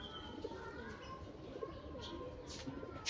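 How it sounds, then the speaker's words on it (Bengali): A pigeon coos softly a few times against a steady background of household ambience, its low murmuring calls faint and spaced out. "আর এটা হচ্ছে কবুতর, এনে আমার একটু মানে পছন্দের একটা কবুতর আছে"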